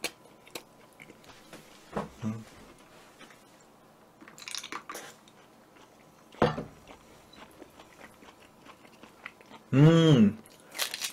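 Open-mouthed chewing of a Burger King bulgogi burger, with several separate wet, crunchy bites spaced apart and one louder burst near the end, close to the microphone.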